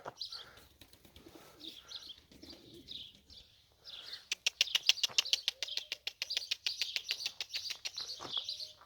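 A white male racing pigeon coos softly at first, then breaks into a fast series of bright, rhythmic chirping calls, close and fairly loud, with no talk over it.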